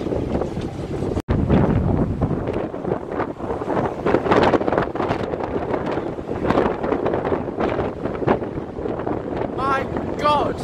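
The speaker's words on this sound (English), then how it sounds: "is it windy?" Heavy wind buffets the microphone in a constant loud roar, with brief moments of voices buried beneath the gusts.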